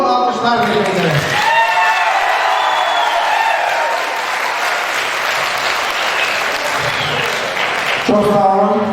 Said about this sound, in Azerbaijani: hörmətli müəllimlərin şərəfinə bulutlu alqışlar verilməkdir